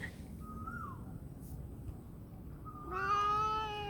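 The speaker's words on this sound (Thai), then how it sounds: "เพื่อนๆ มาดูแมวกันดีกว่า น่ารักจังเลยสามเดือนแล้ว" A three-month-old Persian kitten gives a faint, thin meow early on, then a louder, clearer meow near the end over a low, steady background hum.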